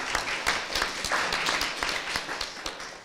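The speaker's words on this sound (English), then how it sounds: "Y'all give them a round of applause." An audience at a DEI field hearing in Atlanta, Georgia, breaks into applause, a dense, steady patter of many hands clapping at once, fairly close, with no voices rising above it across the few seconds.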